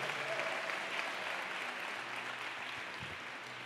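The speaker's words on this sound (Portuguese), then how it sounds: "Você pode aplaudir o Senhor por isso?" A church congregation applauds during a Portuguese-language sermon, a steady, fairly faint wash of clapping from many hands that holds evenly for a few seconds.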